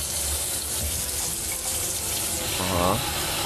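A water faucet runs in a steady, full gush that fills the whole clip, with a brief gurgling change near the end.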